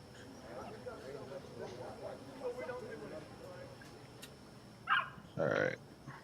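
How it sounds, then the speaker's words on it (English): Two short, sharp yips from a small dog in a video game pop out near the end, after a stretch of quieter talking and background game sound. "Pet the tiny doggy."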